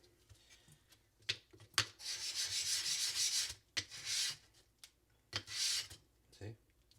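A kitchen knife rubs across a dense, hard Suehiro Gokumyo whetstone in several bursts of close, gritty scraping strokes, broken by short pauses and light taps, with no talking over it.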